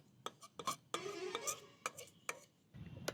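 Carrot halwa being stirred in a pan as it boils down in milk, with a few distinct scraping and clinking strokes of a spoon and brief bubbling, close and fairly quiet with gaps between the strokes.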